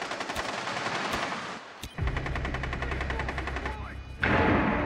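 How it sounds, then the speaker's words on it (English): Rapid automatic gunfire from the shooter game Rainbow Six Siege crackles in dense, sustained bursts, loud and close, with a short pause and a louder burst near the end. "Look out, shooting."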